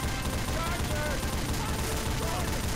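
Dense, continuous gunfire from the Left 4 Dead video game, a rapid rattling barrage with no breaks that fills the whole stretch, loud and close.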